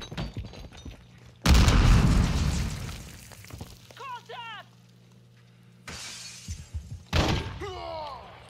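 A frag grenade detonates in Modern Warfare 2 multiplayer with a loud sudden blast and shattering debris that decays over a couple of seconds, followed later by a second burst, with in-game chatter and a player voice around it.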